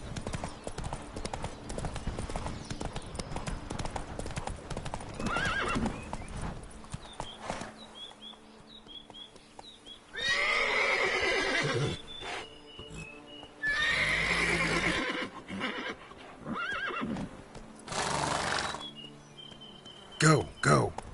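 Roach the horse in Witcher 3 whinnies and trots, with clip-clop hoofbeats and several loud neighs in bursts between quieter stretches of game ambience and a voice.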